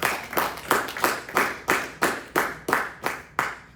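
A church congregation claps in unison during a Spanish sermon on the baptism of the Holy Spirit, about ten sharp, evenly spaced claps keeping a steady beat, close and fairly loud.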